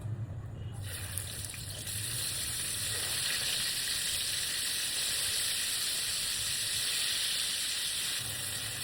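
Sea fish go into hot oil, and a loud, dense, hissing sizzle bursts up about a second in and then holds steady and close for several seconds, with no talking.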